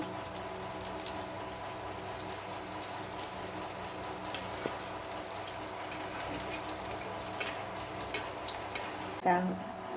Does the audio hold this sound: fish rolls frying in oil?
yes